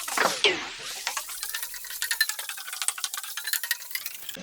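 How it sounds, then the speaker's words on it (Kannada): Spoon stirring soy sauce and tomato sauce through a mushroom and paneer Manchurian mixture in a pan, a run of soft irregular scraping strokes with a light sizzle, close and alone. "ಸ್ವಲ್ಪ soya sauce, 2 spoon tomato sauce ಹಾಕಿ ಮಿಕ್ಸ್ ಮಾಡಿ."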